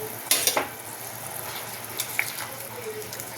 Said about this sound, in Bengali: ঝোলটা ফুটে গেছে, আমি দেখি